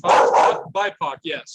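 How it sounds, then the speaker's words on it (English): A dog barks several times in quick succession, loud and close, in short sharp bursts alongside a voice talking on a call. "Sorry about the dog barking."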